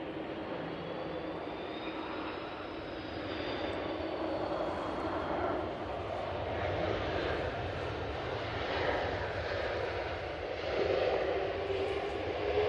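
A Virgin Atlantic airliner landing after a hydraulic failure, a steady broadband roar of engines and airflow holding at an even level throughout, with no voices.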